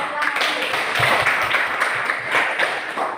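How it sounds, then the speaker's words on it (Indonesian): Classroom applause for a presenting student group, a steady patter of many hands clapping at moderate volume, with some voices mixed in. "untuk kelompok 1 kita berikan tepuk tangan"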